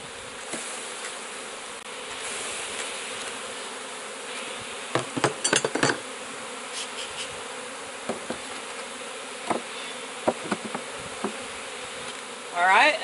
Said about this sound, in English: Now I'm going to give it a couple extra frames of bees, a few shakes of bees.